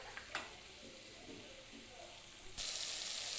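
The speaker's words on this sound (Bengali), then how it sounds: "টক দই দিয়ে গ্যাসটা কমিয়ে এটা নাড়তে থাকবো।" Sour yogurt is stirred into hot spiced oil in a pan over lowered gas, giving a faint, steady sizzle with a few soft stirring scrapes and a louder hiss near the end.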